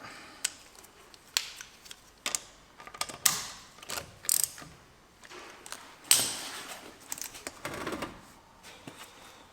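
A campervan wheel grinds and scrapes against something, heard as irregular close mechanical clicks, ratcheting scrapes and rubbing bursts, fairly quiet with uneven rhythm and no talking.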